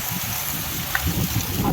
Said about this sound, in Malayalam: കണ്ണു പോലും കാണാൻ വയ്യ മഴ അപാരമാണ്